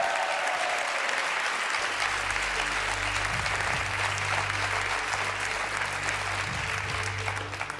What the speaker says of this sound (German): Ein Applaus für den Freiwilligen.